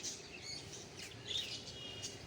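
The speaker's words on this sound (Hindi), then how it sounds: "सुबह का टाइम, खूबसूरत परिंदों की आवाज़ें" Birds chirp and tweet in a garden on a morning after rain, several short bright calls scattered across the moment, fairly faint and open-air with no talking.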